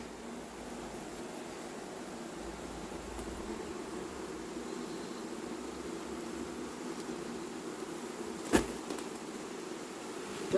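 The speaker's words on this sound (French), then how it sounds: "C'est des abeilles d'intérieur." Honeybees from a recently settled swarm being collected hum as a low, steady, diffuse drone, with one sharp knock near the end and no talk.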